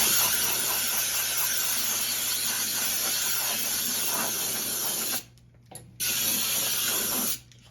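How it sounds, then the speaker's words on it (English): A compressed air nozzle fitted with a regulator and kept at about 20 psi blows out a relay on a Laguna 18/36 Revo. Its steady broadband hiss runs loud and close, cuts off briefly in two short gaps, then resumes before stopping. "I put a regulator on my air nozzle, and I keep it really low pressure."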